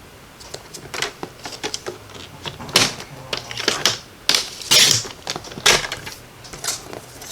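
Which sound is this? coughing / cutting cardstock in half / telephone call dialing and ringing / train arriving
cutting cardstock in half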